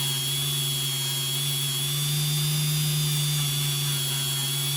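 A rotary tool spinning at 10,000 RPM while polishing an AR-15 trigger gives a constant, even high-pitched whine with a low electric hum beneath it, close and uninterrupted.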